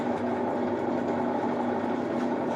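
A TuD 50 x 1500 lathe runs with its spindle turning, giving a steady, close mechanical hum with a constant tonal drone and no speech over it.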